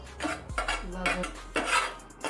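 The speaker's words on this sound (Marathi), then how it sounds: "गॅसवरती एक त्यामध्ये आपलं सुकं खोबरं आहे ते भाजून घे" Dry coconut roasts in a pan as a metal spoon stirs it, giving three or four distinct scraping clinks against the pan, close and fairly loud.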